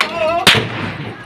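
A single loud gunshot close by in Tarn Taran, Punjab, a sharp crack with a brief rumbling tail, heard against the murmur of voices outside.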